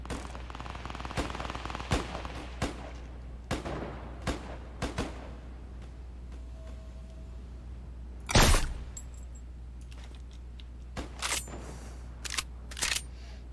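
Gunfire in the video game Fortnite: a series of sharp single shots spaced a second or so apart, one louder burst midway, then a few more scattered shots over a low steady hum.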